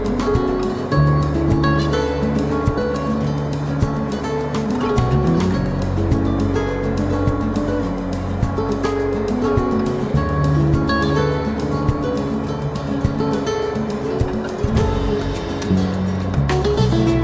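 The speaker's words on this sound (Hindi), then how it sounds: "यहाँ पे देखिए बाइक वॉश हो रहा है।" A Honda Livo motorbike is washed at a service centre in Kolkata, with loud, continuous spraying water and a steady motor drone filling the whole stretch without pause.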